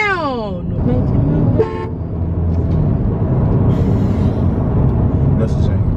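Car horns honk in repeated toots on a busy street, a sustained blast at the start followed by shorter honks, loud and close, while people talk over the traffic.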